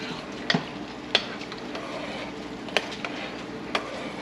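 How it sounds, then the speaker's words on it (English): Pork leaf lard rendering in a pot while being stirred, with a few sharp utensil scrapes and clinks over a soft background sizzle. "I'm gonna stir the lard again."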